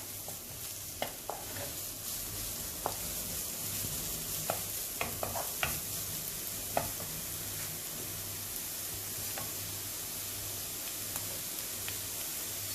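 Chopped red onion fries in a pan with a continuous close sizzle, broken by scattered clicks and scrapes of a utensil stirring through it, the clatter coming in irregular bursts over the steady hiss.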